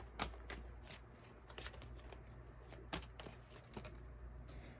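Soft, faint riffling and slapping of tarot cards being shuffled, with light irregular clicks over a low steady hum.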